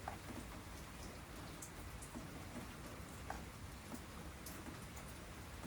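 Water steadily rinsing residue from refined blank circuit boards, a continuous close splashing hiss with scattered small drip-like ticks, no talk.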